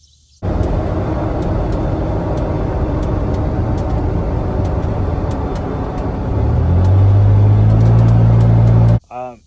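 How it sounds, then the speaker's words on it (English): Mickey Thompson Baja Boss tires roll along the road while driving, a loud, steady cabin roar and low rumble that swells and deepens toward the end before cutting off abruptly. "these tires are probably a 7 for me as far as tires that I have actually used on the road and how loud they are"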